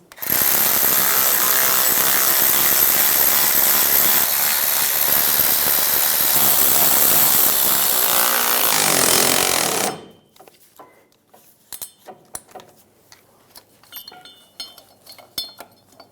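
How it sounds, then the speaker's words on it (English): Bolts on the driveshaft flange of a 2007-2017 Ford Expedition are run down with a power tool, giving a loud, steady whirring drone for several seconds. It stops abruptly and gives way to scattered faint metallic clicks and clinks. "Once you have all your bolts started, we'll go around and snug them down."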